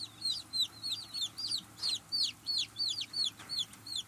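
Newly arrived baby chicks cheeping, a rapid rhythmic series of high, bright peeps close by, repeating steadily over a quiet low hum.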